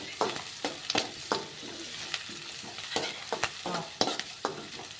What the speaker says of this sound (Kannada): ಕರಿಬೇವು ಈರುಳ್ಳಿ ಫ್ರೈ ಆಗಲಿ